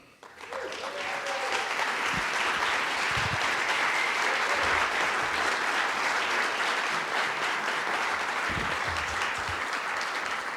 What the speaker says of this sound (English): finally, one more applause